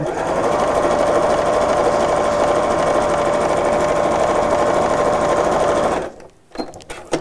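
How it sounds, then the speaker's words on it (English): A sewing machine stitches fabric strips together with a loud, steady motor whir and rapid needle chatter that runs for about six seconds, then stops abruptly, leaving a few faint handling knocks. "I'm going to sew enough strips together"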